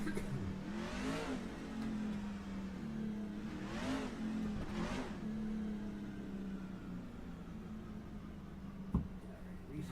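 Race car engine in a racing video game, driving slowly back to pit road: a steady droning hum with three rising revving swells and a single sharp click near the end, no talk.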